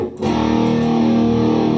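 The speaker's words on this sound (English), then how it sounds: "If you turn the tone all the way back with the distortion all the way up" A sustained, heavily distorted electric guitar note through a BOSS distortion pedal, tone fully down and distortion fully up, rings out loud and thick after a brief pick attack, holding steady with buzzing overtones.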